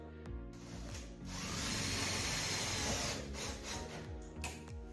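Power drill drives a screw into a phenolic restroom cubicle panel, a loud continuous whirring whine held for several seconds with a brief start and slight pitch shifts near the end, close by and without talk.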